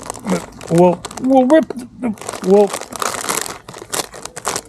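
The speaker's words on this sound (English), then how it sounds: "And we'll rip this bag of chips open." A bag of chips is torn open with a burst of crinkly plastic rustling, loud and close, mixed in with a person talking.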